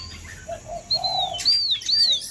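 A Chinese hwamei songbird sings close by, a few clear rising and falling whistled phrases over a quiet background.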